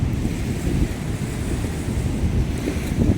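Waves on the Godavari river beside a boat, a continuous low rushing wash with wind buffeting the microphone, close and steady, no voices.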